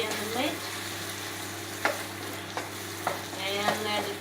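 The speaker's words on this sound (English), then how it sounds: "So now I put the sauce and I stir it well and combine together" Chicken fried rice with sauce stirred in a pan, a continuous close sizzle with a few distinct scraping strokes of the utensil against the pan, no talking.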